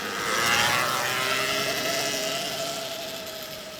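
A Surron Ultra Bee electric dirt bike rides along with a steady whirring drivetrain drone of belt and chain, mixed with broad wind and road rush, fairly loud and continuous with no engine note.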